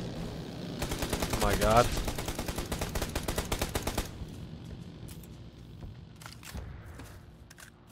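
Long rapid bursts of automatic gunfire in PUBG on Xbox One X, loud and rhythmic for a few seconds, then scattered distant shots, with players talking and exclaiming over it.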